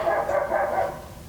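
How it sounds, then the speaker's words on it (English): A priest's dog barks indoors, close and fairly loud, with a quick run of sharp, slightly whiny barks over about a second before trailing off. "That's our priest dog inserting himself into our video."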